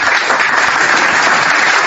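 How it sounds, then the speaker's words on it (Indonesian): Loud, dense audience applause at a comedic Indonesian talk event, many hands clapping in a steady close roar for a couple of seconds. "Tepuk tangan dulu teman-teman"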